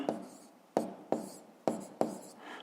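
Pen strokes on paper while figures for a physics exercise are written down, five sharp scratching strokes at uneven intervals, each fading quickly, close by and with no talk.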